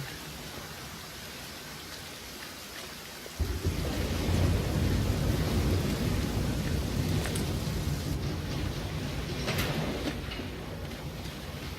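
Rainstorm with thunder in the survival game The Flame in the Flood: a soft rain hiss suddenly swells into a loud, heavy downpour with deep rumbling thunder that continues steadily to the end.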